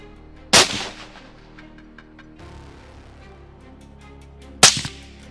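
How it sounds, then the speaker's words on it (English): Two sharp, loud rifle shots fired at a wild boar, about four seconds apart, each with a brief echoing tail, with quiet outdoor background in between. "We take careful aim before deciding to pull the trigger."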